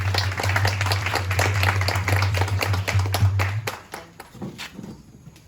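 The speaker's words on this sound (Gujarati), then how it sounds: "કેરીનબેન ઊભા થશો અને આપણે જોરદાર તાળીઓ પાડીશું" An audience at a church service claps in a steady, rhythmic round of applause that fades out near the end, with a low steady hum beneath it.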